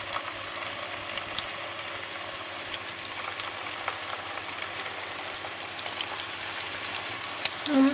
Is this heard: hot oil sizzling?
yes